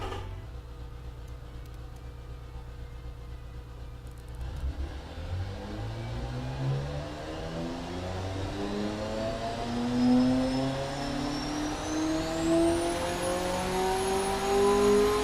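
A 4.7-litre Ambassador Police car engine in the Automation car tycoon game revs up, a steady idle climbing through rising, accelerating pitch sweeps that grow louder toward the end, heard alone without talk.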